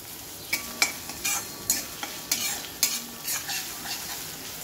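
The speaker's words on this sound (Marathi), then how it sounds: "कांदे चांगले गोल्डन ब्राऊन होईपर्यंत आपल्याला परतायचे" Two medium-sized, finely chopped onions are sautéed in a pan toward golden brown, a soft steady sizzle under repeated scraping stir strokes from a spatula, close and without voices.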